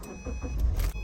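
A car engine cranks and catches at a dealer auction, a used car with 152,000 miles, giving a short, close, loud start with no talking.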